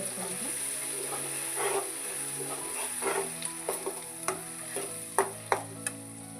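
Ground masala being stirred in a hot pan for a North Karnataka-style cauliflower dish, a steady sizzle with scraping strokes that grow into sharp, rhythmic clacks toward the end.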